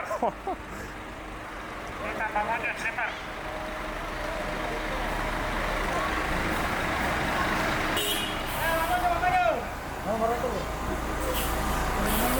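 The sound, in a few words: sleeper bus with air brakes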